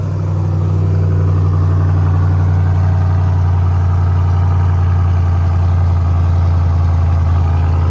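Ram 1500 TRX pickup truck engine, unstarted for a month, idling with a loud, deep, steady rumble and a throaty low-frequency throb, close up with no speech.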